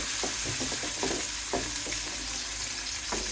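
Chopped onion frying in hot oil in a pan, a constant low sizzle broken by a quick series of scraping stirs near the start, then continuing on its own.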